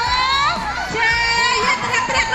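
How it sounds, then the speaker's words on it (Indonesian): A crowd of children shouts and cheers loudly at a church celebration for Ascension Day, with a dense, continuous burst of high excited voices. "Ya, teriak-teriak dulu."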